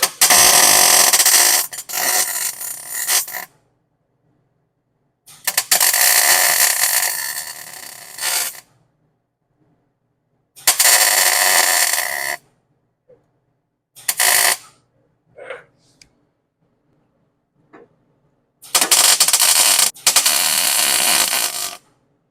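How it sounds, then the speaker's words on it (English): Plug welding a tub panel on a 1962 Ford Falcon with bursts of loud, crackling welding arc, several seconds each and separated by silent pauses, plus a few short zaps in between, close and harsh. "we're ready to weld it in"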